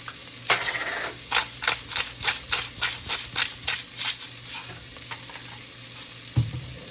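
Seasoned vegetables for a spinach and cauliflower bisque sauté in a pan. A quick run of rhythmic stirring scrapes sits over a steady sizzle, then one last scrape ends the stirring and the sizzle carries on more quietly.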